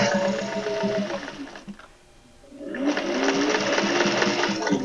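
A sewing machine stitches straight across foam-backed fabric for a travel thread catcher, running in a steady, loud mechanical whir that pauses briefly midway as the fabric is adjusted, then resumes at full speed.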